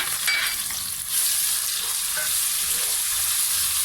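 Garlic frying in hot oil for aloo gobhi, a loud continuous close sizzle with light stirring throughout.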